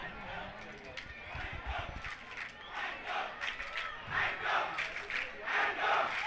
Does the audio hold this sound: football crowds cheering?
yes